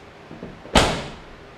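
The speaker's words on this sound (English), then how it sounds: "And the door shuts a whole lot better." A square body Chevy GMC truck door, fitted with a repaired door striker, swings shut with one solid thud, preceded by faint rattles of the latch, close by with no talk.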